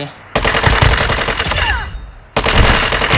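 M4 rifle fire in the Warzone Mobile video game: two loud, close sustained automatic bursts with a brief gap between them, and a voice speaks faintly beneath.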